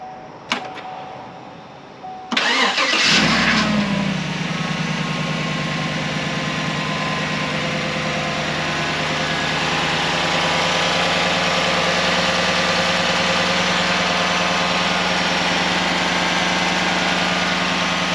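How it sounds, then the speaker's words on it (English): A Chevy Tahoe's 5.3L V8 cranks and catches after a brief quiet moment, then settles into a loud, steady idle with a constant low rumble that holds for the remaining stretch, no talking over it. "let's go ahead and fire this thing up and make sure that we don't have any misfires or anything"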